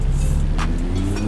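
A V10 car engine in the video game Forza Horizon 4 drones steadily with a low, continuous rumble, rising briefly in a short rev near the middle, loud and close.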